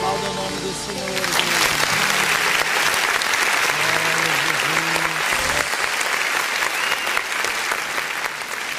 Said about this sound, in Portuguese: Aplaude ao nome do Senhor